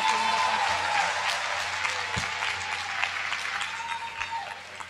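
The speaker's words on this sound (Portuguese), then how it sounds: "dar uma calorosa salva de palmas, de boas-vindas a essas mulheres lutadoras" Warm crowd applause welcoming women at a political and cultural gathering of landless women, a sustained clapping wash that gradually fades, with some voices and sharper claps scattered through it.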